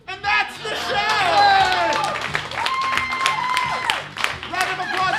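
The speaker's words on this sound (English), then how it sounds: "Round of applause for your winner, Katie Novak!" Audience applause and cheering at the close of a live comedy game show, a sustained wash of clapping mixed with whoops, with a loud voice talking and shouting over it throughout.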